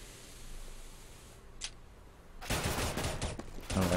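Gunfire in a competitive video game shooter match, Counter-Strike style, sounds as a burst of rapid shots after a brief single report. The shots are close and fairly loud over a background hiss, with no talk.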